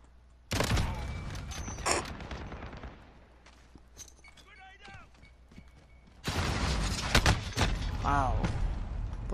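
Gunfire in a first-person shooter video game, sharp bursts of shots close up with rapid fusillades and slams, loud stretches broken by quieter gaps, with a player's voice talking over the action.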